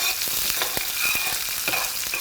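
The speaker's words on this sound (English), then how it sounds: "You hear that sizzle, that means the oil is hot." Onions sizzle steadily in hot oil in a pan for dal, with a continuous bright crackle and occasional sharper pops and stirring clicks.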